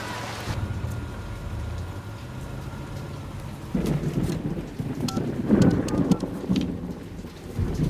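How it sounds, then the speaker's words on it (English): Steady rain pours down with rumbling thunder throughout, growing heavier and more turbulent halfway through with louder splashes and gusts, no voices present. "It's not going to rain forever, Thomas."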